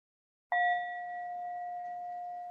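One struck meditation bell rings out after a short silence, a bright sudden onset settling into a long, steady, pure sustained tone that hangs without decay through the end.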